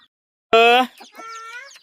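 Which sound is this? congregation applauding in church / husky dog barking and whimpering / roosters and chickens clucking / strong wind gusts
roosters and chickens clucking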